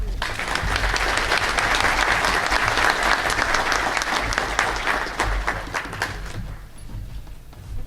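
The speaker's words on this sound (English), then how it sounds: "I always love getting folks to recognize you and clap before you actually speak." Audience applause for Florida Power & Light CEO Armando Pimentel as he is welcomed on stage, a dense, sustained crowd clapping at steady loudness that thins slightly toward the end.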